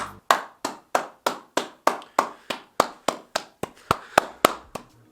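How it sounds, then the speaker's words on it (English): Sharp, evenly spaced claps ring out one after another, about three per second, loud and close with nothing else heard, like a single person or small group applauding. "Big round of applause for Jamie and Andreea"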